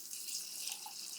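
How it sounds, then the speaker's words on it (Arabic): Two cups of long-grain basmati rice are washed in water, with a soft continuous running-tap hiss and faint trickling, close and steady, and no talking. "بنحتاج لكوبين من الرز البسمتي حبة الطويلة، ونغسلها كتير منيح لحتى تروح منها النشا"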